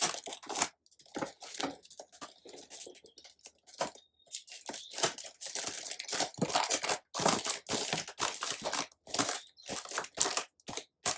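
Packing tape is pulled and torn open at an allotment, a long, close run of crackling, crinkling and ripping bursts with short pauses, steady for several seconds without talk.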